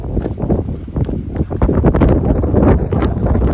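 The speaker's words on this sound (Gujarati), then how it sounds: "એથી પવન જે ફૂંકાય" Strong wind buffets the microphone at a cliff edge on a mountain path near Junagadh, a loud, gusty rumble that surges and drops irregularly.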